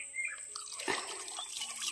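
Water is poured from a bucket onto garden soil, heard as a brief, close splash and trickle in a quiet outdoor setting with faint background sounds.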